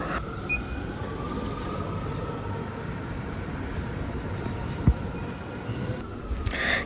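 A low, steady rumble of a metro train carriage in motion in Rome fills the space, with faint rattles and a sharp click partway through.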